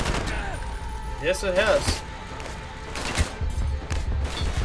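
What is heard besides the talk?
gunfire in Call of Duty: Black Ops video game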